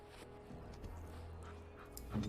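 A dog from the Dragon Age Origins video game makes a brief, fairly faint canine sound, close to a bark or whimper, over a low steady game background hum.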